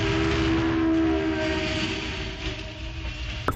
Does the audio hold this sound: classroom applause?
no